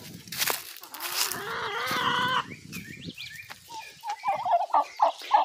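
Turkeys gobbling at close range on a farm, a run of short, loud rising calls repeated in quick succession, with other fowl clucking and noisy movement underneath.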